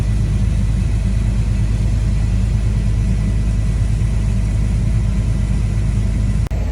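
A grain cart unloads harvested corn into a truck parked in a driveway, a steady, loud engine rumble droning close by throughout, ending with a brief dropout.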